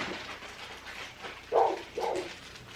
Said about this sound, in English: really don't know what she's barking at